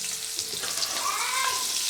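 Young jackfruit pieces frying in hot oil, a bright close sizzle with soft bubbling and spitting throughout, no voices.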